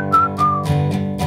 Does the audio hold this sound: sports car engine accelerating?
no